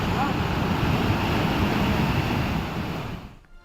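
Swollen monsoon stream surging after heavy rain in Uttarakhand, a loud, steady roar of rushing water filling the whole clip, close and unbroken before fading abruptly at the very end.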